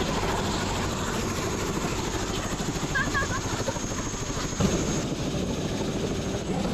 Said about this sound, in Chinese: 现在我已经到了直升飞机的下边了